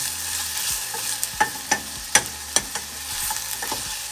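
Sweet and sour sauce cooking in a pan over medium-high heat, a steady sizzle punctuated by sharp clinks and scrapes of a utensil against the pan, close and without speech.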